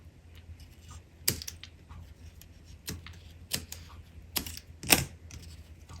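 Excess cardstock is trimmed from a handmade slimline diorama card, giving several sharp, close snips and clicks spaced irregularly over quiet room tone, the last one loudest.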